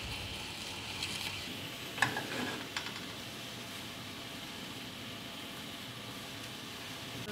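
Small green chiltepín chiles roast in a hot pan with a soft, continuous sizzle. A few faint clicks of stirring come near the start, and nobody speaks.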